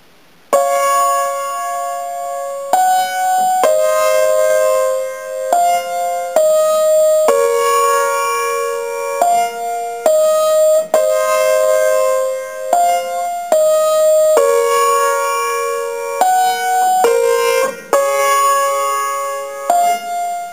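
Solo piano plays the bridge of a song, a continuous run of sustained chords that change every second or two, loud and close, with no talking.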